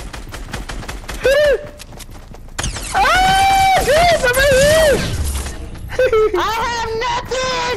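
Sniper gunfire in the Fortnite battle royale game cracks out in scattered shots among loud, excited shouting voices and game sounds.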